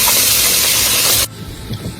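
Fish frying hard in hot oil in a riverside camp kitchen in the Sundarbans, a loud, steady, bright sizzle that cuts off abruptly partway through, leaving quieter clatter and background noise.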